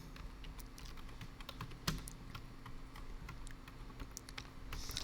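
Keys clack steadily at close range as a password is typed on a computer keyboard, a quick irregular patter of taps over a quiet room hum with one sharper keystroke midway.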